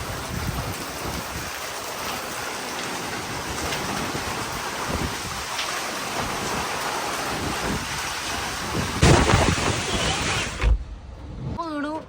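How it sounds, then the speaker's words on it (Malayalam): Steady heavy rain roars throughout, dense and close, with a sudden louder burst near the end before it cuts off. "മഴ കാണിക്കട്ടെ ഗംഭീര മഴയാണെന്ന്"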